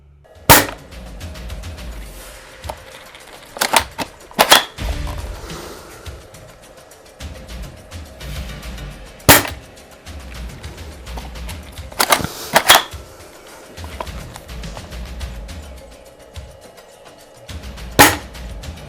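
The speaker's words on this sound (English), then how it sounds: "every time you need to fire a shot, pull back on the charging handle like so, fire, and fire" Lancer Tactical M82 spring-powered airsoft sniper rifle firing single shots: sharp, loud cracks spaced several seconds apart, with clacking of the charging handle being worked between shots.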